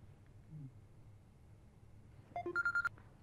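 A phone rings faintly after a quiet stretch, a short burst of repeated electronic ringtone pulses near the end over low room noise.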